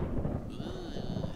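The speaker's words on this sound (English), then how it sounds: "the sound of thunder. And sometimes it's raining outside and I thought this thunder is outside one." Thunder in the Cities: Skylines city-building game: a brief, low, continuous rumble that rolls on for just over a second, with a thin high tone layered above it partway through.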